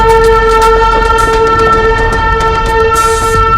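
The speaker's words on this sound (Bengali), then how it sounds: "Toy train." The Darjeeling toy train passes near Ghum station with a loud, sustained horn blast held throughout, over rumbling wheels and rail noise close by.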